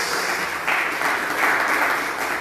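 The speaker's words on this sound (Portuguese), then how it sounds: "E vamos aplaudir o Senhor." A church congregation applauds during worship, a steady wash of many hands clapping together at close range, swelling slightly in a few brief surges and sustained throughout with no talk.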